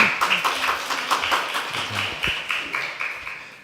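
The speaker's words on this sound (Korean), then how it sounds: "박수를 일단 환영하도록 하겠습니다" Brief applause in a church service welcoming a visitor: a cluster of hand claps, moderately loud and fairly close, with a few louder individual claps standing out and faint voices mixed in.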